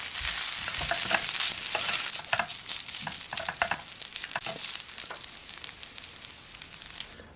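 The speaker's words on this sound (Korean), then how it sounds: "이제 밥을 넣고 잘 볶습니다." Continuous sizzling of rice stir-frying with ketchup in a hot pan, with scraping and clinking as it is stirred and tossed, steady and close.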